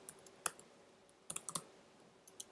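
Light typing on a computer keyboard, with scattered quiet key clicks landing in short bursts and pauses, close up in a quiet room.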